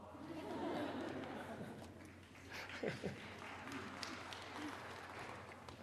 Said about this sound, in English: It's all right to clap.